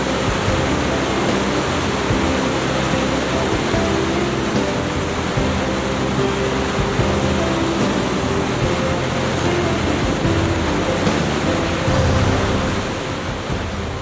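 Hukou Waterfall on the Yellow River roars steadily, a loud, dense, unbroken wash of thundering water that fills the whole stretch without voices.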